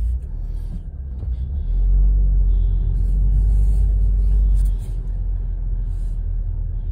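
A 2022 Subaru WRX is heard from inside the cabin as it drives, a deep, steady low engine rumble that swells for a few seconds, then settles back into a constant drone.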